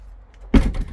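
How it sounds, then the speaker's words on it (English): A motorhome's gas cupboard door on a Carado i338 Edition 15 integrated Hymer Group van swings shut with a single close, solid thunk after a quiet moment, followed by a short rattling tail. "Oh, I didn't close that door properly."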